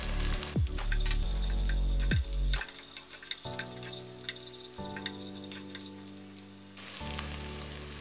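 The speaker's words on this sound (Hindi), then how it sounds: "उसी देसी में हम ऑयल ले लेंगे आधी प्याली और फिर हम उसमें डालेंगे 2 टेबलस्पून अदरक लहसुन का पेस्ट" Ginger garlic paste sizzles and spatters loudly in hot oil, with crackling bursts that gradually settle into a quieter, steady frying hiss.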